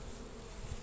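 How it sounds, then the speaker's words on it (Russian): A dense, steady hum of honeybees buzzing in a packed 12-frame hive at close range, fairly faint and unbroken. "Вот видим, 12 рамочный улей. Уже битком пчелы."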